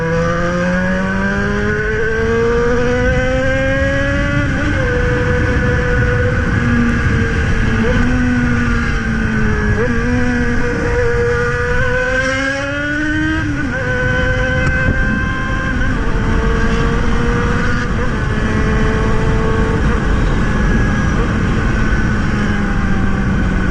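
A Yamaha XJ6 motorcycle engine revs hard outdoors on a wet road, its pitch climbing and dropping repeatedly as it bounces against the rev limiter, loud and continuous from start to finish.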